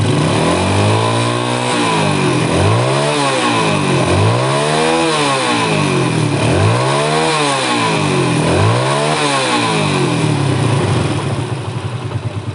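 A motorcycle engine revs repeatedly during a charging voltage test, climbing and falling in four or five loud, close throttle blips that rise and fade in a regular rhythm.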